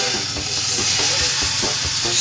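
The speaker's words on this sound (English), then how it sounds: "sear our pork tenderloin" Pork tenderloin sears in a hot pan with a loud, dense, continuous sizzle and hiss that fills the whole clip close up.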